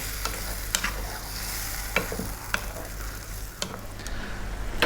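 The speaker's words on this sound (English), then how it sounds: "Give it a stir every now and then. We really want to cook those tomatoes out." Tomato chicken stew with cumin and chickpeas bubbles in a pot, a low sizzling simmer with a spoon knocking and scraping against the pan every second or so, close and alone.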